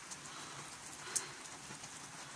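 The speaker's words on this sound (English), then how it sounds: "it is absolutely hammering it down" Heavy rain pours down steadily outdoors at a bus stop, a dense, even hiss of drops with one brief sharper tap partway through, nobody speaking.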